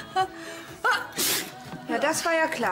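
A woman sneezes sharply during a scene from the German TV soap GZSZ in which a character has a cold, with a couple of quick bursts set among close conversational German speech.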